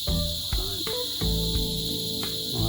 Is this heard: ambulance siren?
no